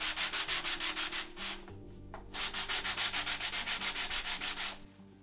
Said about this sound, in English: I want to sand, and even sanding pattern everywhere